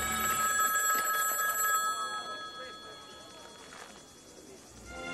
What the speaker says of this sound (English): the legend of the ringing phone would never end